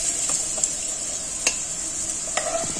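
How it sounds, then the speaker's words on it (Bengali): Potatoes frying in hot oil in a pan for a Bengali fish-head muri ghonto, a steady close sizzle with a few sharp scraping stirs of a spatula, heard alone. "দেখুন আমার আলুগুলো লাল লাল করে ভাজা হয়ে গেছে"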